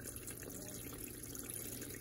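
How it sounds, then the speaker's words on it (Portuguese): Water running into a Brastemp Eggo mini washing machine for its third and final rinse, a faint steady hiss and trickle of inflowing water, quiet and continuous. "Entrada da água para o terceiro e último enxágue do programa."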